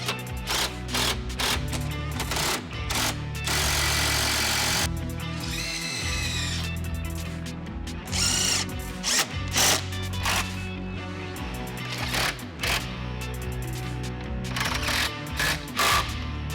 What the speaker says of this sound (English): then we'll tighten down those bolts, and finally we'll tighten down the hinge bolts in a cross hatch pattern